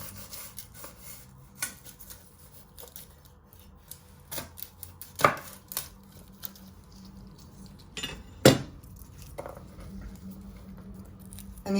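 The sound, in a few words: knife trimming ends of garlic cloves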